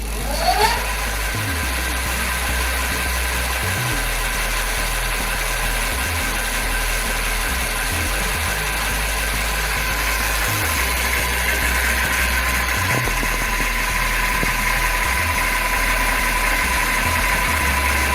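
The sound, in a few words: electric bike motor running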